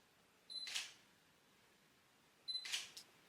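Two crisp shutter actuations from a Sony A7III mirrorless camera taking a selfie, each a short electronic beep followed by a quick mechanical click, about two seconds apart in a quiet room.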